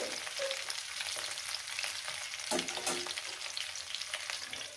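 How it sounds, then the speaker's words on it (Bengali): Potatoes fry in a pan for a fish and potato curry, giving a steady close sizzle and crackle with a brief stir or clatter midway and no talking. "যতক্ষণ না আলু সুন্দর করে ভাজা হচ্ছে"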